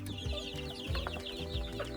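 Farm chickens cluck and murmur softly nearby in short, repeated bursts, a low restless chatter of fowl with no talking over it.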